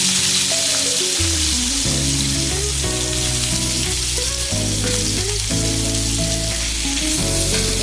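Oil sizzles and fries steadily in a hot pan while a tomato chilli chutney is being made. A continuous crackling hiss runs under loud melodic background music, and no one speaks.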